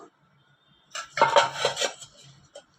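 A spoon works chicken pieces through masala paste and yogurt in a bowl, giving a short burst of wet clinks and scrapes against the bowl's side, close and moderately loud after a quiet start.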